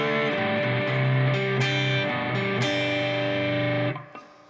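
Distorted electric guitar plays the outro riff of a song at full speed, a loud steady run of chugging power chords and ringing notes that stops sharply near the end.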